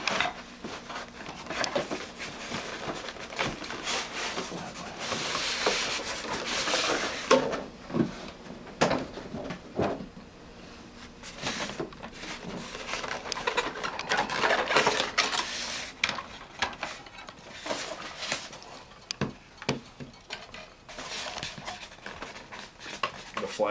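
Packaging of a 1990s Viper Defender R/C toy is opened by hand: continuous close rustling, crinkling and clattering of plastic and cardboard with scattered sharp knocks, running steadily throughout.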